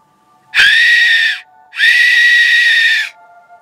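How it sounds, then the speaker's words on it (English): Two long, shrill whistled calls from a fox call whistle, each about a second long with a short pause between, loud and close against a quiet night background. "see if it reacts to the fox call whistle"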